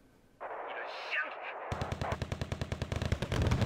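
Rapid bursts of gunfire from units shooting down a Z5 helicopter in the Wargame: Red Dragon Second Korean War campaign, opening after a rising engine-like whoosh and then rattling on in a dense, evenly spaced string of loud shots.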